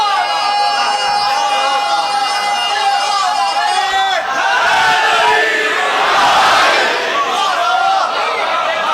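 A crowd at a Shia majlis in an imambargah chanting religious slogans in loud unison, repeated surging call-and-response shouts rising to a peak near the end, close and full, with a leader's voice among them.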